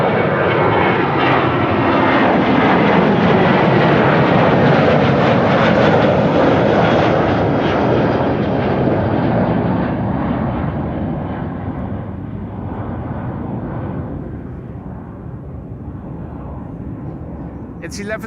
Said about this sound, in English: Next, another 737 from KLM.